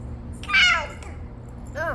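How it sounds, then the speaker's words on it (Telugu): A house cat gives two short meows indoors, a louder one followed by a softer one, over a low steady background hum. "క్యాట్"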